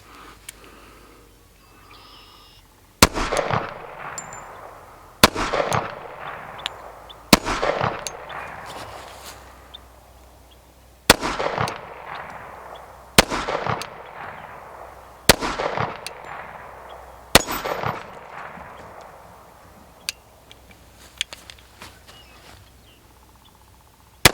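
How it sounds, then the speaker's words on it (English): Tisas 1911 Carry .45 ACP pistol fired at an outdoor range, eight sharp, loud reports spaced a couple of seconds apart, each followed by a brief echoing decay, with no talking. "So let's just go through, get some rounds downrange, and have some fun,"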